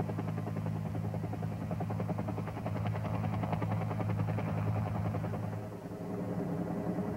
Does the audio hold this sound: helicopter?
yes